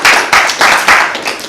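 Congregation clapping in a church service, loud close rhythmic bursts of many hands, about five clear pulses in quick succession.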